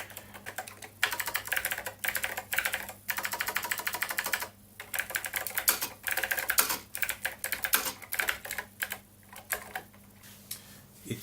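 Rapid keystrokes clatter on a MechBoard64 mechanical keyboard fitted to a Commodore C64, coming in bursts of steady clicking separated by short pauses, close and clear with no talking.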